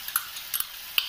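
Gobi Manchurian tossed in a pan with soy, tomato and chilli sauces: a soft sizzle with a few quick clinks and scrapes of a spoon against the pan.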